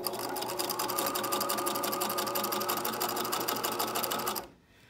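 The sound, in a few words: sewing machine stitching elastic onto fabric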